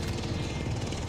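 A helicopter in the video game Call of Duty: Modern Warfare Warzone drones with a steady, dense rotor chop, loud and continuous with no talk over it.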